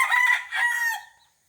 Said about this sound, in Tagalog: Yung mga manok ko guys